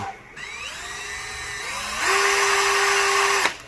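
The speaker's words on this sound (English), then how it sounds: "we're going to take the smallest drill bit we can find and drill a little hole into this seal" A small drill with its smallest bit whines, rising in pitch as it spins up, then holds a steady high buzz as it bores a hole into a seal during a Duramax engine rebuild before cutting off.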